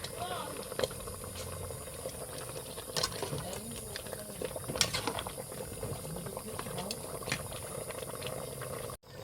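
A pot of Filipino chicken soup (tinola) bubbles at a rolling boil, with irregular pops and gurgles of liquid and a faint clatter nearby.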